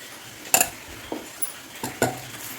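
Moong dal being stirred in a pan for halwa over low heat, a few separate scraping clinks of a spoon against the metal at irregular intervals, quiet and close with no talking.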